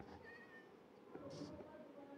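A cat meows once, briefly and faintly, in the Minecraft video game, over a steady bed of game noise and background sound.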